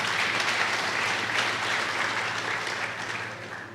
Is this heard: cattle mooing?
no